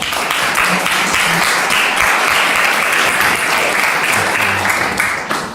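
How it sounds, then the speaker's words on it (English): A large audience claps in dense, sustained applause welcoming a speaker at a talk, loud and steady for the whole stretch before fading slightly at the end. "So please join in welcoming Brandon."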